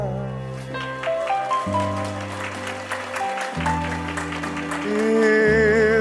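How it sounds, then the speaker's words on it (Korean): An audience at a parenting talk concert in Seoul applauds steadily while a live band holds sustained chords at the close of a song, the clapping blended under the music and growing slightly louder toward the end. "이제 박수 나왔으니까 꺼주세요."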